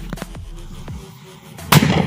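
Several sharp Diwali firecracker pops and bangs, a shell and double-sound cracker set off inside a hole, muffled and boomy, ending in a louder, sustained crackling burst.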